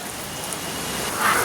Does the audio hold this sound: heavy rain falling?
yes